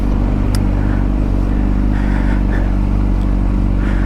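A car rumbles past on the road in a steady, loud low drone that holds throughout with no talking.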